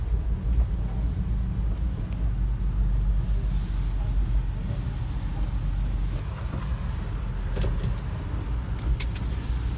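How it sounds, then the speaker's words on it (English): A 1989 Mitsubishi Montero, abandoned for 12 years, drives along with a continuous low engine and road rumble close to the microphone, broken by a few light rattles and knocks. "that is officially the first drive that this vehicle has taken in like 12 years"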